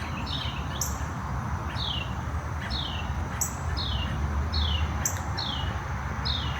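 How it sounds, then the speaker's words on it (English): Small birds chirp outdoors in repeated quick, descending calls that stand out clearly over a steady, low background hiss. "There's a lot of birds right in that area."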